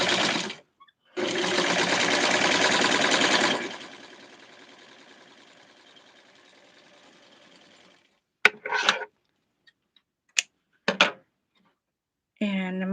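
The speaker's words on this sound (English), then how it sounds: "So I'm going to sew the top to hold it into place." Sewing machine stitching pink cotton onto the top of a small doll-sized tweed suit, a close buzzing run of a few seconds that slows and trails off, followed by silence and a few brief sharp clicks and short bursts.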